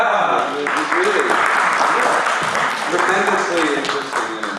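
An audience at a talk on teaching jazz improvisation to beginners gives a loud, sustained round of applause that stays thick throughout, with a few voices mixed in.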